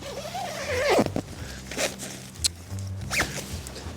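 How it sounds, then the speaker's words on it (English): Kinked zip on a cheap £7 tent dragged along its track, several short rasping pulls that catch and stop, close and fairly loud against quiet surroundings. "how much of a pain in the arse the zips are, because they're kinked and the zip gets stuck every couple of centimetres"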